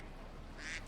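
A short, faint duck quack offered as a sound option in a Nancy Drew video game, a single brief call near the end.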